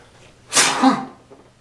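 A single loud, close sneeze bursts out sharply and trails off quickly, standing alone against a quiet background.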